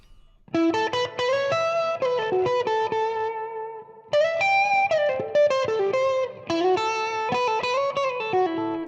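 An electric guitar plays chord phrases through the clean channel of a PRS 2-channel Custom amp, turned up to slight overdrive, bright and sustained with a slight gritty edge, in three bursts.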